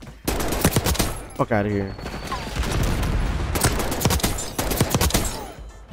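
Rapid-fire gunshots crack in quick bursts during a video game match, loud and close, with someone speaking briefly between volleys.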